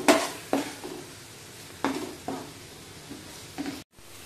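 Ginger garlic paste fries in a pan for a fish curry, a soft low sizzle punctuated by several distinct scraping stirs of a spoon against the metal, fairly quiet and without talk.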